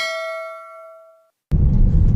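A single bright bell chime rings out and fades slowly into silence, followed by a burst of loud rumbling noise.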